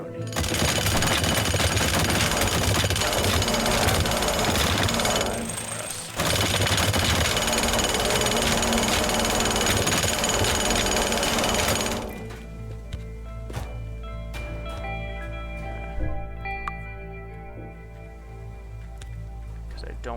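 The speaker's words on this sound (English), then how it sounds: "Might just jackhammer out." A jackhammer breaking apart a structure in the Teardown video game, hammering loudly and continuously for about twelve seconds with one brief pause, then stopping and leaving a quieter low hum with scattered knocks.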